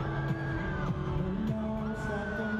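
Fans scream and cheer at an Asia fan concert at Smart Araneta Coliseum, a dense sustained crowd roar with rising shrieks and whoops layered over music throughout.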